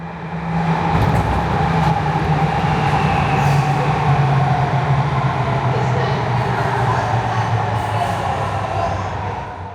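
A loud, sustained rumble and hum of a metro train arriving at an underground platform on Melbourne's new Metro Tunnel, steady throughout with a low droning tone.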